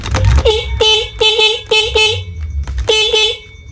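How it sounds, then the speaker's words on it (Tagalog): Stock horn on a motorcycle honks repeatedly in quick, short blasts, loud and close, in a few clustered bursts separated by brief pauses. "So gumagana naman yung ating busina"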